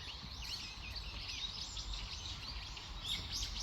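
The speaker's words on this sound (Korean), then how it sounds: "새 소리 들리시죠?" Several birds chirp and twitter busily in quick overlapping calls from inside a tree in spring, fairly close, over a low steady background rumble.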